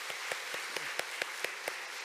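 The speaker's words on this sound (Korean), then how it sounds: "이 시간 우리 그 모든 영광을 하나님께 박수로 올려드리겠습니다." Church congregation applauding during a Sunday afternoon education-department summer program, a soft, even wash of clapping with faint, evenly spaced sharp claps standing out.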